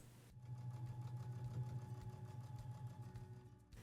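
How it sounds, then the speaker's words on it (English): A sewing machine stitches around a grocery bag pocket, starting abruptly and running as a steady rhythmic whirring hum with regular needle ticks, fairly quiet and close, then easing off at the end. "we are going to stitch around our entire pocket using a 1/4 inch seam allowance."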